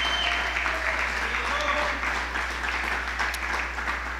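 A church congregation gives a sustained burst of applause, a dense even clatter of many hands filling the room, with some voices mixed in.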